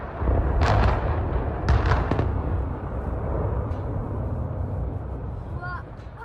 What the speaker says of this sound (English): 3 cooling towers at Didcot Power Station in Oxfordshire, Britain, were demolished in an explosion